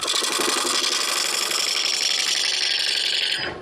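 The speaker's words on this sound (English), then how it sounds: "I'm turning about 600 there now. But this is a spindle. I'm using a spindle roughing gouge." Wood lathe turning a spindle at about 600 rpm while a spindle roughing gouge cuts it, a loud continuous whirring, rhythmically chattering cut that holds steady and then winds down at the end.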